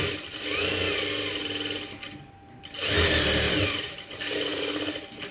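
Sewing machine stitching saree fabric for an umbrella frock, a steady close whirring run that pauses briefly near the middle and then resumes for several more seconds.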